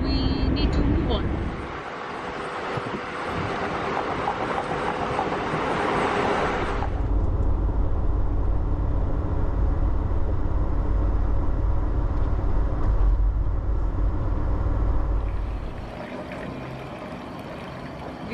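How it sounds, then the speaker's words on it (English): An overland vehicle driving on a road at night, steady low road and engine rumble that drops in level partway through, then a quieter stretch near the end. "We're still driving."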